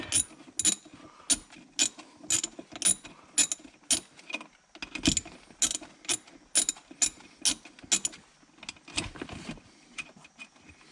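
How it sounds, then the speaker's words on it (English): A hand ratchet clicks in repeated short bursts while adjusting the parking brake nuts on a BMW, working in a tight space beside the center console; sharp, close, metallic clicking with brief pauses between strokes, no talking. "just going to use the ratchet because it's hard to get my fingers down in there"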